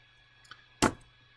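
A single sharp click of the Tab key pressed on a computer keyboard, close and crisp, standing alone in an otherwise quiet room.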